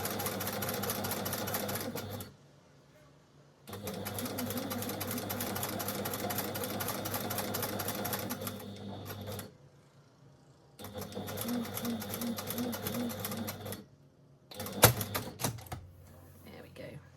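A sewing machine stitches a skirt pocket in three runs of rapid, steady mechanical whirring and clatter, separated by short pauses, with a soft voice in the gaps and a sharp click near the end.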